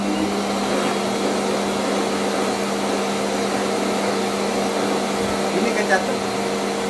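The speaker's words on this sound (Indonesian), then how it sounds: "yang saya pakai ini emang bener-bener powerful, suaranya nggak terlalu bising" Pet blower dryer running steadily on a cat during a bath for a fungal skin condition, a constant airy whir with a steady hum, while a voice speaks briefly over it.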